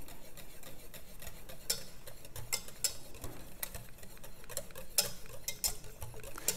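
Egg whites being whisked for a coffee souffle, a quick rhythmic ticking and clicking of the whisk against the bowl, close and fairly soft over a low background hum, no talking.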